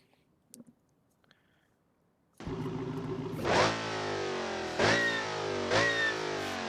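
A few faint clicks, then a Hellcat-powered police car's engine fires up and idles loudly in the video game BeamNG.drive, revving sharply three times in quick succession.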